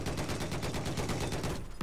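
A machine gun in Battlefield 4 rattles off a fast, steady burst of closely spaced shots, loud and near, stopping abruptly just before the end.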